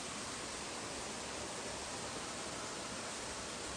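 Water pours down Pha Luang waterfall in Si Mueang Mai, Ubon Ratchathani, a soft, steady, unbroken rushing hiss that stays faint and even throughout.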